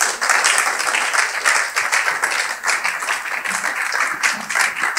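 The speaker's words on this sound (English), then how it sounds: "everyone, a round of applause" A conference audience in Nigeria claps steadily, with dense, even applause filling the room for about five seconds and no talking over it.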